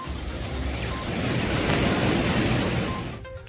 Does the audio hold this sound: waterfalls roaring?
yes